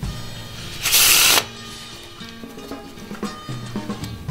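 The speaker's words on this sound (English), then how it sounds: "I'll just give these a bit of a ferrous shuffle in" A brisk burst of playing cards riffling together in a faro shuffle, lasting about half a second, followed by softer rustling and tapping of handled cards.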